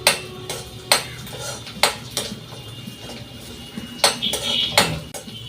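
Pots and utensils clank and clatter on a home stove beside a simmering fish curry and a pointed gourd and potato curry, sharp close metal knocks at irregular intervals with faint stirring between them.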